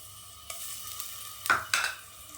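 Ginger garlic paste hits hot oil in a pressure cooker, a quiet low sizzle broken by two sharp spatula scrapes and stirs near the end.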